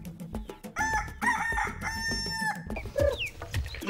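Kenbro chickens and roosters on a smallholder farm, with clear crowing and clucking mixed together, several birds close by calling in overlapping bursts across the whole stretch.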